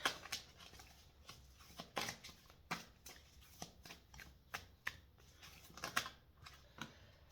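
Cards are shuffled close up in quick, crisp riffles and snaps, an irregular series of sharp flutters, quiet and without any talk.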